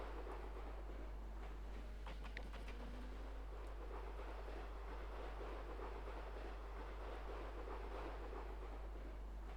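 A locomotive runs around its train in the A-Train 9 simulation, a low steady rumble with faint clanks under a constant hum and no voices.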